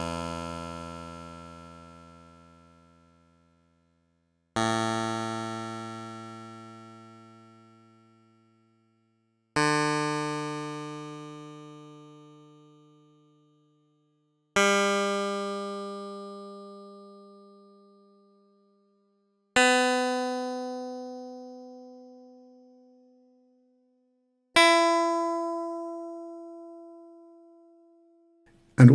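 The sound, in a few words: code-synthesized guitar strings plucked one by one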